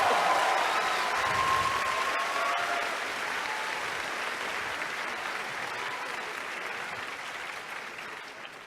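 A large audience of about 4,000 people cheers and applauds in a loud burst that gradually fades, with scattered screams above the dense roar of clapping.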